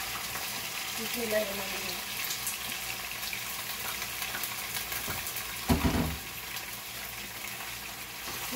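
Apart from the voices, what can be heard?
chicken frying in a pan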